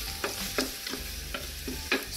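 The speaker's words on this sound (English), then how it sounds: "Add the blended paste of onions, garlic, anchovies and belacan, which is known as shrimp paste." A blended paste of onion, garlic, anchovy and belacan shrimp paste fries in hot oil, giving a steady close sizzle punctuated by several scraping stirs of a spatula in the pan.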